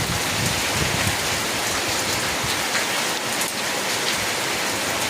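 Rain falls steadily in Telangana, a loud, dense hiss of drops spattering on surfaces close by, constant throughout with no voices.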